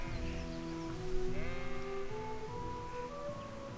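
Sheep in the video game Kingdom Come: Deliverance bleat in a series of wavering calls, fairly soft and close, overlapping one another against a low background bed.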